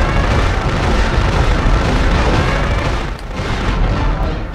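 Loud, dense explosion in the video game Future Cop LAPD, a sustained roaring boom with rumbling debris lasting several seconds, briefly dipping before swelling again.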